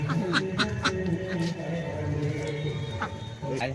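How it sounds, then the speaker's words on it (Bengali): Ducks quacking close by in a village yard as they are lured in with food, repeated nasal calls overlapping with people talking. "হাঁস ধরার জন্য কাকিমা খাবার দিয়ে নিয়ে এসছে হাঁসগুলোকে"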